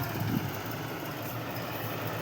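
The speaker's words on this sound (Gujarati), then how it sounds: "જૂની જગ્યાએ ઠેસર ચાલુ થઈ ગયું છે" A threshing machine runs with a steady low rumble and broad whirring noise, continuous and moderately distant, with no voices.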